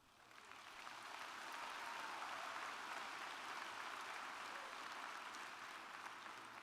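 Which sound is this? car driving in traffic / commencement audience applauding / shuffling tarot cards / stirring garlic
commencement audience applauding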